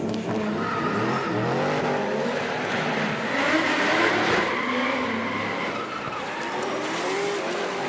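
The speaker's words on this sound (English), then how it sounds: "Bit of an understeer from Michael." Drift car sliding hard against a concrete wall at a D1NZ drifting finale, with steady loud tyre squeal and a roaring engine held almost without pause across the whole stretch.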